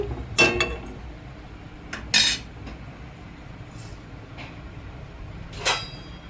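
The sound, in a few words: placing a plate as lid on cooking pot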